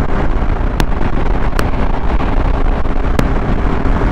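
A Honda SP 160 motorcycle ridden at full throttle in fifth gear, a steady loud engine roar buried in heavy rushing wind noise, with a few sharp clicks.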